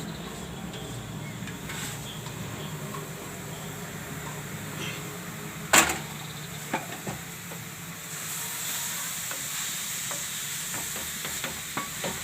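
Bottle gourd being stirred in hot ghee, with a steady low sizzle throughout, a sharp clatter of the spoon near the middle and a few lighter scrapes and taps afterwards.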